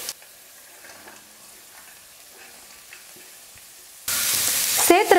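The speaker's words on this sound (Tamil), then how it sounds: "இப்போ எடுத்துருக்கிற காய்கறிகளை சேர்த்துடுறேன்" Beans and cabbage hit a hot pan for egg rice, a quiet sizzle jumping to a loud, steady frying hiss near the end with some stirring.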